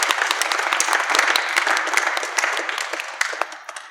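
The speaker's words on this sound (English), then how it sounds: "Ladies and gentlemen, a big round of applause for the National Mime Broadcasters Association." Audience applause during a radio play broadcast, a dense wash of many hands clapping at steady strength before slowly thinning out, with a few louder individual claps near the end.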